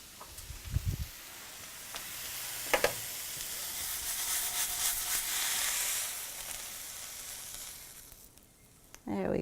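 Zoodles (zucchini noodles) sizzle in a frying pan with a steady, fairly close hiss, punctuated by a few brief clanks of a utensil against the pan near the start and end; no one speaks.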